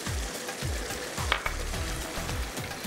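Onions and dried plums frying in a karahi, a continuous oily sizzle with low rhythmic stirring thumps repeating about every half second, close and steady, no voices.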